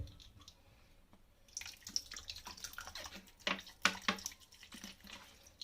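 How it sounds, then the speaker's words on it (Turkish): White vinegar for washing vegetables is poured out, starting after a quiet second as a close, splashy trickle of liquid with uneven gurgles and drips that grows busier toward the end. "Benim sebzeleri yıkamak için kullandığım şöyle bir beyaz sirkem var arkadaşlar. Hemen bundan dökeceğim."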